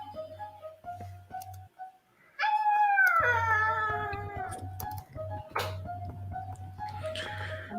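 A dog lets out a long, wavering howl that rises and slowly falls, over a steady low rhythmic backing and other scattered sounds.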